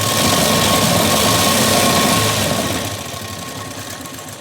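A sewing machine stitching a blouse front panel runs steadily and loudly at close range, a continuous whirring motor hum that eases slightly in the last seconds, with no talking.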